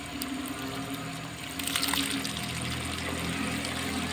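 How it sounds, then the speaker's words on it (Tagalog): A deep well water pump running, water gushing and splashing steadily nearby with a constant pump hum underneath, no voices. "Deep well pump po ito."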